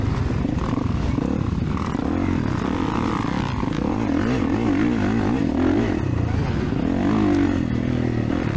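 A 450 motorcycle laps a motocross track with a steady, droning engine roar that rises and falls in pitch through revs and gear changes, heard continuously and fairly loud throughout.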